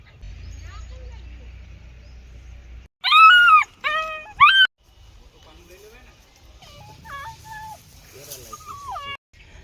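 A puppy with paralysed legs lets out a few high, wavering whimpers close by, then quieter whines follow over low background noise.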